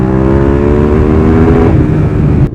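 A Yamaha R6 or KTM Super Duke sport motorcycle revs hard on a racetrack, its loud, steady engine drone holding close and continuous before it suddenly cuts off.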